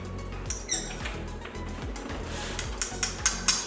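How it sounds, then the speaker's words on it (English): Garlic being squeezed out for a garlic rosemary loaf in a bread machine recipe gives soft, wet squeaks and squelches in uneven bursts, close by and moderately loud. "I'm gonna squeeze out enough garlic to add to our loaf"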